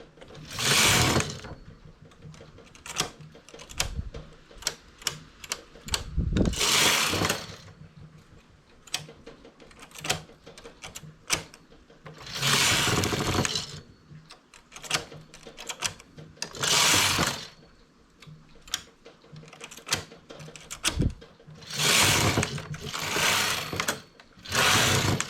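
A knitting machine carriage runs back and forth across raised needles without a comb, knitting rows of a double hem detail; loud rhythmic mechanical clattering bursts repeat through the stretch, with brief quieter gaps between passes.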